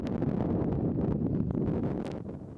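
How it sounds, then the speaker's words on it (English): Strong wind buffets an outdoor microphone on a hilltop, a continuous loud low rumble with gusty surges throughout and no voices. "For testing out just how windy it is"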